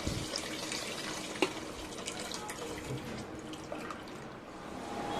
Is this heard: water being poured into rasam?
yes